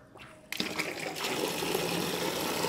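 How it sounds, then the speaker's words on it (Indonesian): A newly installed wall mixer tap, mounted on a bracket, is turned on after a quiet start. Water gushes out in a steady, loud, close stream that holds to the end. "Kemudian coba saya arahkan airnya keluar dari sini ya."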